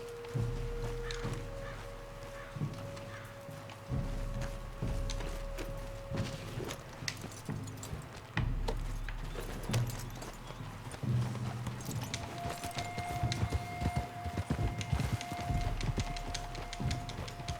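Steady clip-clop of horse hooves trotting throughout in the video game Red Dead Redemption 2, with a low rumble and occasional tonal hums layered underneath.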